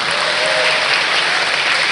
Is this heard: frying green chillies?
no